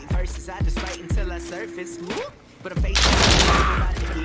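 A video game shooter fires several sharp, close gunshots in quick succession, followed by a heavier, sustained burst of fire, with a voice speaking over the gunfire.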